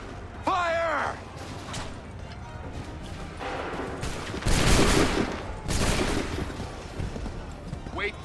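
Musket volleys in Assassin's Creed 3, with a shouted command near the start, then two loud crackling bursts of massed gunfire close together, each fading into a ragged roll, amid battlefield noise.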